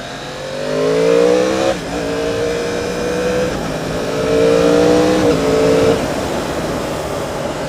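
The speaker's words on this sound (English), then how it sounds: "the main thing I've noticed about this bike is the throttle. It is so aggressive on Power 1." A 2015 Yamaha R1 sport motorcycle accelerates hard, its engine note climbing steeply through two gear changes, then rising again in a smooth, loud, close-up whine with no talking.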